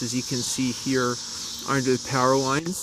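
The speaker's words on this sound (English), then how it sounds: "You can probably hear the crickets chirping in the background." Crickets chirp in a steady high drone on a warm evening at sunset under power lines in North Potomac, Maryland. The chirping stays soft and constant behind someone talking.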